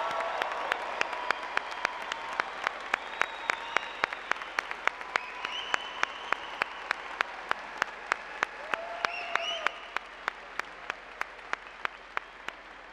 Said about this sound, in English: one more congratulatory round of applause for our graduates